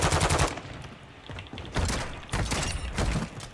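Bursts of automatic gunfire in a Call of Duty match, several sharp rattling volleys separated by short pauses, fairly close and loud.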